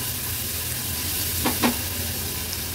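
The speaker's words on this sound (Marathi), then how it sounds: "वाटण थोडंसं तेलावर परतून घ्यायचंय।" Coarsely ground masala paste sautéing in oil for a pomfret curry. A continuous low sizzle, with two quick scraping strokes of a spoon across the pan near the middle, and no voices.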